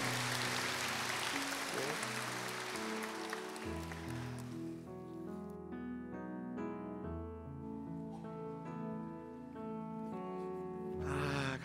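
A church congregation at a Sunday service applauds after a birthday blessing, a dense wash of clapping for a few seconds that fades as sustained keyboard music takes over.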